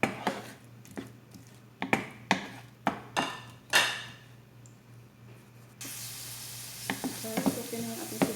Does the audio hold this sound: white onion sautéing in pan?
yes